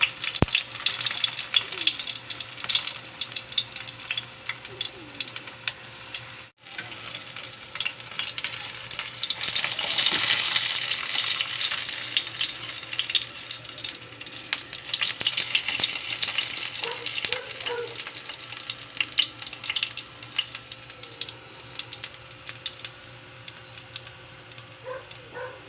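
Two dried fish (tuyo) fry in a pan with a continuous close sizzle and crackle that swells in the middle, along with occasional scraping and stirring sounds and no speech.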